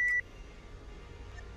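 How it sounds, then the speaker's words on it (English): A single loud electronic beep in the video game ELEX, a sharp steady tone lasting a fraction of a second at the very start, followed by quiet ambient game background. "What was that sound? That beep?"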